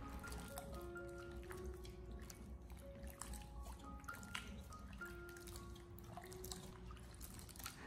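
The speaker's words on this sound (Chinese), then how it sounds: "我们下手给它轻轻的搓洗一下，清洗掉芋头表面的一些淀粉。" Taro is rubbed and rinsed by hand in a large basin of clean water, giving soft intermittent drips, splashes and trickles, faint and close, with no speech.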